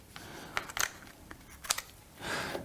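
Scissors trimming the edges of a paper flat-pack model: a few short, crisp snips and rustles spread across the clip, then a longer soft scrape of paper near the end.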